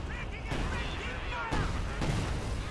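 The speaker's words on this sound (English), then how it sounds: "Katyusha rockets landing on the German front line." Katyusha rockets landing on the German front line in a video game, a short barrage of muffled booming impacts in quick succession under a continuous roar, with some speech-like sound mixed in.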